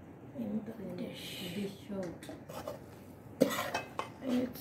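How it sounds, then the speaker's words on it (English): Chicken biryani spooned into a serving dish, soft scraping and clinking of a spoon against the dish with a sharper clatter near the end, heard under continuous talking. "I'm gonna put in all the biryani in the dish."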